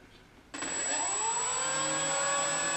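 An E-flite P-51 Mustang RC plane's electric motor spins up abruptly after a quiet start, then holds a steady, loud, high-pitched whine with a rising tone settling into a constant drone.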